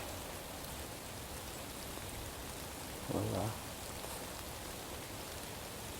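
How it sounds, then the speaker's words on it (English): Light rain falls in the woods during a daytime gun hunt, a steady, even hiss of drops close around, with a brief spoken word partway through. "A little bit of rain dropping."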